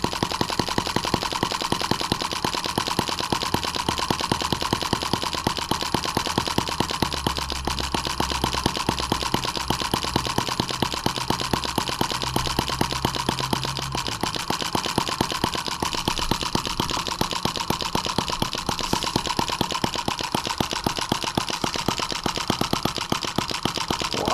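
A Chinese M17B engine idles and runs with a fast, even, rapid-fire putter, loud and steady close up, with a low droning hum underneath for part of the time.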